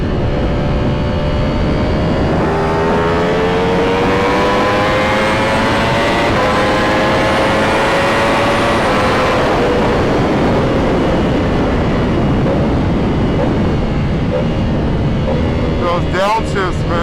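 Ducati Panigale V4 SP2 motorcycle riding at night, a loud, close engine roar with rising and falling revs through the downshifts and a crackle near the end.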